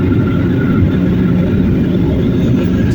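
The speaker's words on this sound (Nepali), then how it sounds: "और गाइज प्लेन काफ़ी ऊंचाई में चल चुका है।" Steady loud low roar of an airliner's engines and airflow heard from inside the cabin at cruising altitude on a flight over Nepal, constant and unbroken with no talk.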